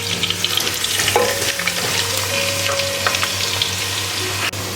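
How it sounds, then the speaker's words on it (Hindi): Finely chopped onion hits hot mustard oil and fries with a steady, close sizzle, a few stirring scrapes breaking through the hissing crackle throughout. "अब हम इसमें डालेंगे जी प्याज।"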